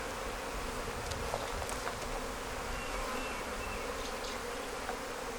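Honey bees swarm densely around an opened Flow Hive, producing a loud, close, continuous droning buzz with individual bees whining past the microphone. No one speaks.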